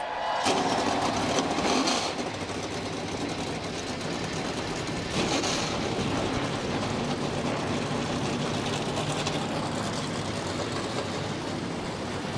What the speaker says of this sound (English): The engines have fired.